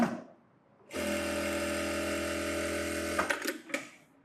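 After a brief quiet start, a sewing machine stitching a saree blouse whirs steadily and evenly for about two seconds, then stops with a few clicks and knocks of fabric handling.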